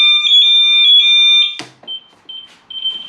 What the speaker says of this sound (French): L'alarme qui se réveille.